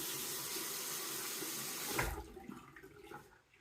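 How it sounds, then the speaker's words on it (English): A Wilkinson Sword Quad razor is wetted under a running tap. Loud, close water rushes steadily for about two seconds, then cuts off, leaving quieter dripping and handling sounds. "and I'll wet the razor."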